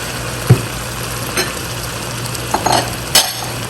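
Chicken pieces dropped into a pot for Lahori murgh cholay, giving a low simmering hiss with a few sharp metallic clinks and scrapes of a utensil against the pot, close by and without talk.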